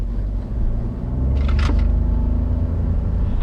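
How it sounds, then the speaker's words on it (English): A Perodua Ativa's three-cylinder engine drones with a steady low rumble from inside the car, loud and continuous, with a brief higher whine rising over it partway through. "That roar, like it requires so much effort to like go."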